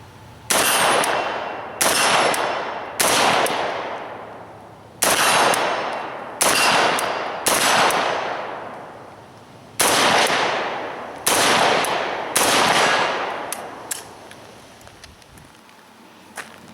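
An AK-74 rifle in 5.45x39 with a red dot sight fires at steel plates at 50 yards: a dozen loud, close shots come singly and in quick pairs, each ringing out with a long decaying tail, and no one talks.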